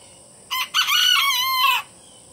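A black and white mixed rooster crowing once, close and loud, a single drawn-out cock-a-doodle-doo lasting over a second against a quiet background.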